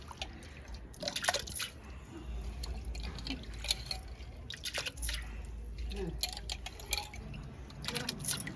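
Water runs and splashes into a cooking pot as it is filled for boiling lentils, a steady watery trickle with intermittent drips and small clinks, and a voice speaking faintly over parts of it.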